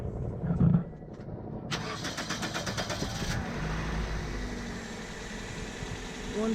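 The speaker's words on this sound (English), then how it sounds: "Go ahead and start the car." A 2005 Toyota Corolla CE engine cranks briefly with a rapid rhythmic whirr, catches, and settles into a low steady idle.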